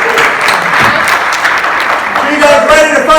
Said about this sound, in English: Let's give Crystal a big round of applause